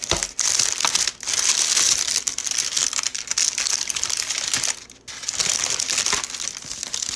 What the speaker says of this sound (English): Opening up the parchment, I just let it kind of drape over the plate